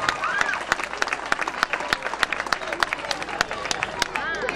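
An audience at a live performance in Pomarico applauds a performer from Matera, with sharp individual claps over crowd murmur, while a voice talks over the clapping.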